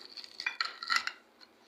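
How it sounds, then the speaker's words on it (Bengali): A knife or utensil cuts through a crispy fried mughlai paratha on a plate, giving a few quiet, close crackling scrapes and clinks in quick succession before fading out. "তো কাটা দেখে বুঝতে পারতেছেন কতটা মচমচ হয়েছে"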